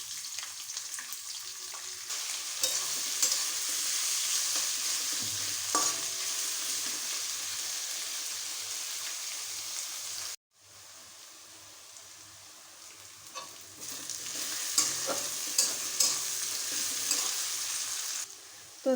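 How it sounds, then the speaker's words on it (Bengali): Chopped onion frying in oil with whole cardamom, cloves, cinnamon and bay leaves, a loud, continuous sizzle with stirring, broken by a short cut midway before resuming strongly. "এবার আমি দিয়ে দিচ্ছি পেঁয়াজ কুচি।"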